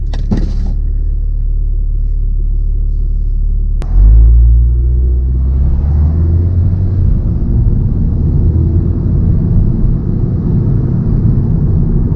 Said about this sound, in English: I like the downshifts of this car on the sim race.